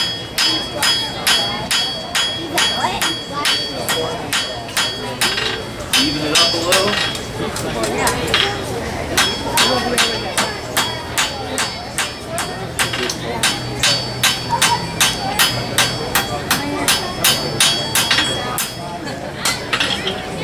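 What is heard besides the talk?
hammer forging hot metal on anvil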